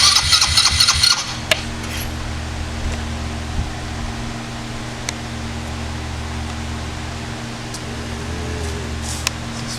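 A dirt bike's MBX engine cranks over after rewiring, with a short burst of starter noise at the start, then a steady low mechanical drone that carries on throughout without firing into a clear run.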